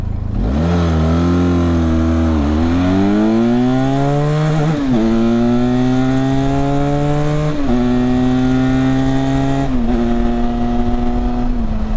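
A Benelli TRK 502 X motorcycle accelerating hard from a standstill to 100, its engine loud and close, climbing in pitch through several gear changes with brief dips between them and no talking.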